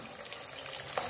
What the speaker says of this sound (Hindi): जल की धारा से अपने आप ही डिब्बा घूम रहा है